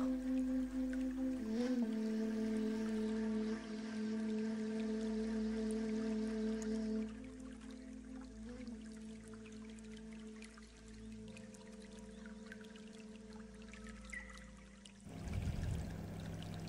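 A small babbling brook in a meditation soundscape, soft continuous trickling water beneath sustained low drones and tones, gentle and distant, with a brief swell of splashing near the end.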